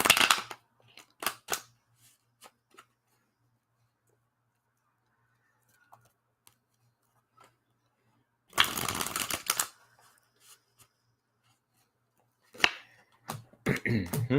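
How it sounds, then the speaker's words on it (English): Tarot cards being shuffled in bursts, with a long riffling run near the middle and shorter flurries at the start and end, separated by quiet gaps and scattered soft taps. "I swear I do shuffle these cards."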